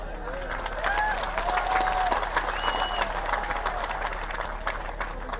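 Crowd applause during a political speech in Darbhanga, dense steady clapping with faint voices and some tonal sounds mixed in, fairly distant.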